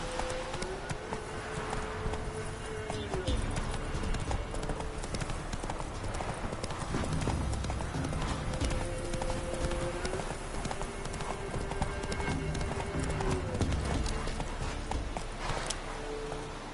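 Horse hooves clip-clopping at a steady walking rhythm in The Witcher 3 video game, moderately close and continuous, with faint game ambience and musical tones underneath.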